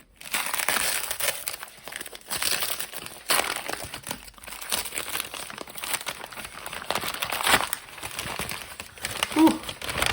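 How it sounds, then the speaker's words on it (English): Crinkly plastic packaging around a knife with a darkwash blade finish is torn and crumpled open up close. Irregular bursts of rustling and crackling come and go, separated by short pauses. "Losing my breath just trying to get this thing open."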